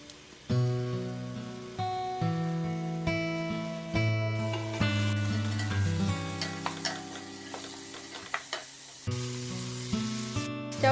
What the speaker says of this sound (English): The oil is nice and hot, and I'm adding the onions.